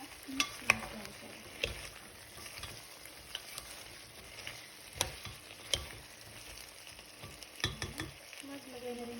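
Pork and vegetables get stirred in a pot for a boiled pork stew, with scraping clacks of the utensil at irregular intervals over a quiet background sizzle, close up and without voices.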